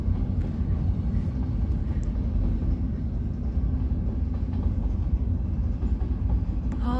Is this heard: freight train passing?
yes